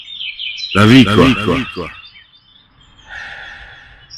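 A bird gives short high chirps, first alone and then again faintly after a person speaks briefly in between, with the song thin and fairly close.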